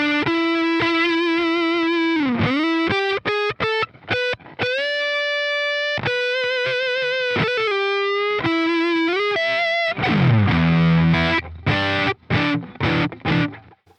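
Distorted electric guitar through a Joe Satriani AmpliTube amp simulator plays sustained notes, bends and choppy staccato chords, ending in a thick, gritty rhythmic passage; loud, with no talking.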